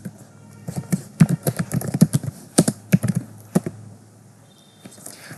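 Fingers type on a computer keyboard while writing Python code in VS Code, producing a close, fairly loud run of irregular key clicks and taps that thins out toward the end.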